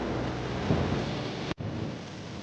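Heavy rain pours steadily in a cartoon scene, with a low rumble of thunder underneath, dense and continuous, briefly cutting out for an instant before resuming.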